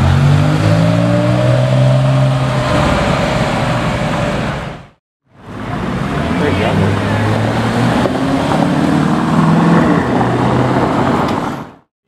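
A Porsche 992 GT3 Touring runs with a loud, droning engine and rising revs, heard close with wind noise. There is a short dropout midway, then the roar resumes, and voices seem to speak beneath it.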